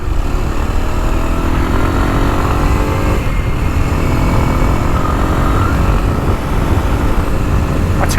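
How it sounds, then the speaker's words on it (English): A small Kawasaki KLX230 dual-sport motorcycle engine revs and pulls hard, loud and close, with a steady rising drone and no talking over it. "that's accelerating extremely well for such a little motor"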